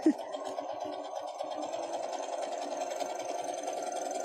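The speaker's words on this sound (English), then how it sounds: "I'm going to go ahead and finish this 1/4-inch seam" A sewing machine runs steadily, finishing a quarter-inch seam with a continuous, close, even motor hum and rapid needle clatter, starting with a brief knock and carrying on alone without talk.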